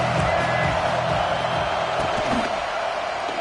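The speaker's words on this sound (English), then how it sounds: "This crowd bringing the energy and noise early." Stadium crowd at a football game keeping up a steady, dense roar of cheering and noise throughout, loud and continuous with no distinct breaks.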